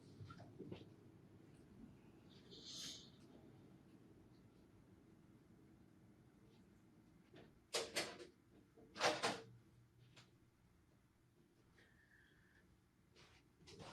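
A door is pushed shut in a quiet room at home, giving two fairly sharp thuds a second or so apart, with faint handling noise before and after.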